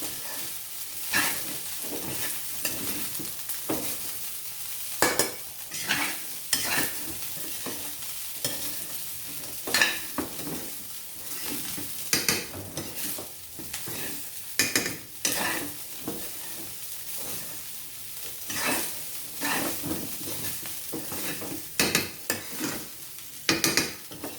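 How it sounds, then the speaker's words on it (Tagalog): Rice for Thai pineapple fried rice is stirred in a sizzling wok, with repeated sharp spatula scrapes and clanks over a constant frying hiss, close and fairly loud, and no talking. "haluin lang natin ang ating kanin"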